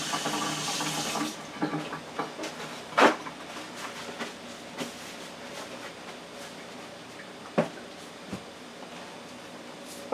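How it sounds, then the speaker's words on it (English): Water runs from a kitchen tap as hands are washed at the sink, a steady close hiss with brief splashes and a few knocks, no voices. "I'm going to wash my hands a minute."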